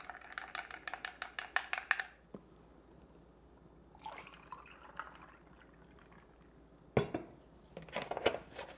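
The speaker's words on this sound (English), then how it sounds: "I'm just going to stir it." A spoon stirs a caramel iced latte, its metal clinking rapidly against the glass in a quick run of bright taps, then pausing before a few more clinks and ice rattles come close and clear.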